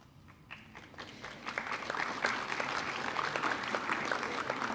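An audience at a high school honors ceremony breaks into applause, starting with a few scattered claps and swelling into sustained clapping from many people in a large room.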